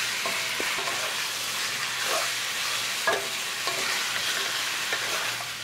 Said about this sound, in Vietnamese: Mình xào lên cho gà săn lại.